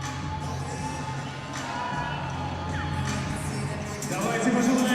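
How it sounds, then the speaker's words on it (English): A crowd in an arena cheers and roars steadily, a dense wash of many voices that swells louder toward the end. "You can hear the cheers from the crowd"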